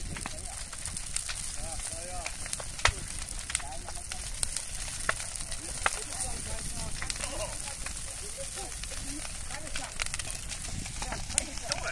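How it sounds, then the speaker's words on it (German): An outdoor Easter bonfire burns with constant crackling and sharp popping snaps over a steady roar, heard from nearby. "Feuer!"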